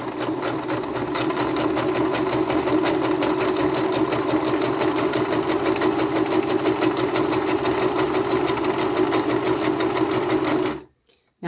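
Sewing machine stitching straight quilting lines with a long stitch length, running steadily and loudly at close range in a fast, even mechanical rhythm, then stopping abruptly at the end.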